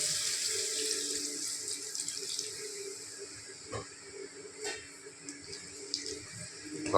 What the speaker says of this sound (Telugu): ఇప్పుడు కొద్దిగా వాటర్ వేసుకుంటున్నాం.